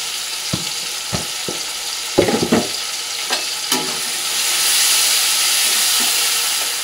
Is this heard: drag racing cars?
no